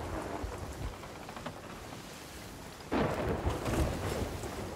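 Thunderstorm with rain in the Sea of Thieves video game, a steady wash of rain with rolling thunder that swells sharply into a loud rumble partway through.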